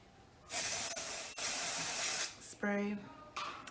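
Two long hissing bursts of aerosol hair spray, followed by brief clicks and a short tonal squeak, then another short spray.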